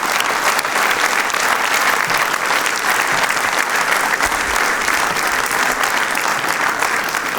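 A studio audience breaks into sustained, dense applause, loud and even from start to finish with no voices on top.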